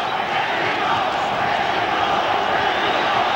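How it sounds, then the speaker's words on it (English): A boxing arena crowd chanting and shouting for Mexico during a Barrera versus Jimenez bout, a dense, loud, continuous roar of many voices. "Crowd shouting Mexico."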